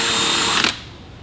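A power drill enlarges a bolt hole for a watercraft's rear sponson, a close, loud, steady whine that cuts off abruptly after about half a second.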